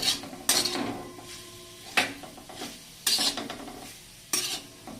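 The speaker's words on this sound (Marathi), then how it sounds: "गॅस आपल्याला एकदम बारीक ठेवायचा आहे. मस्त याला असं हलवून घ्यायचं आपल्याला." Coconut mixture for coconut barfi stirred in a pan over a low flame, a soft quiet sizzle with four or five distinct scraping clinks of the spoon against the pan.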